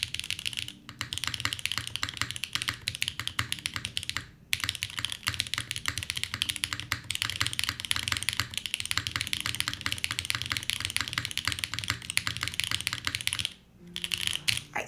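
Steady fast typing on a Fuji75 Proto mechanical keyboard with no desk pad underneath, continuous clacky keystrokes close up with brief pauses.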